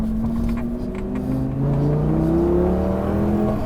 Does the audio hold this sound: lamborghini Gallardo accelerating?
yes